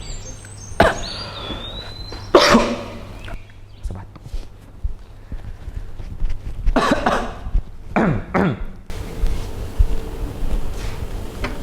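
A man coughs in a short film scene, several harsh bursts spread across the clip, some doubled, with quieter shuffling and movement sounds between them.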